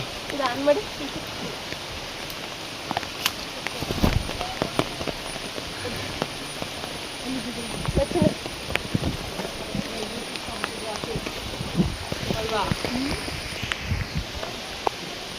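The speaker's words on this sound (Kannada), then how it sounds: "ಮಳೆ ಮಳೆ" Steady rain falls outdoors on a rural path toward the Yana caves, a constant broadband patter with occasional nearer drops and footsteps, while people talk intermittently over it.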